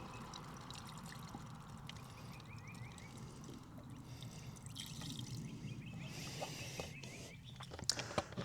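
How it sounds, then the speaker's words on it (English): Distilled water pouring from a gallon jug straight into an engine radiator with no funnel, a steady close trickle and splash that runs throughout, with faint clatter near the end. "we're gonna go ahead and put a gallon of distilled water in here first"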